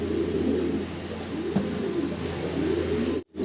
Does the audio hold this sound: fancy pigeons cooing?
yes